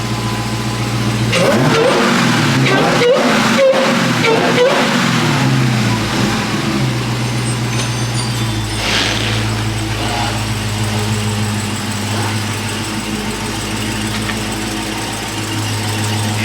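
A Dodge Hellcat's engine revs hard up close in rainy conditions, a loud burst of rising and falling revs early on, then a heavy rumbling idle that keeps droning.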